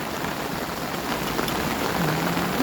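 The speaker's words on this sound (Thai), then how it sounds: "ฝนตกทั่วอีสานเลย" Heavy storm rain falls steadily across open country, a dense even hiss at moderate loudness with no voices.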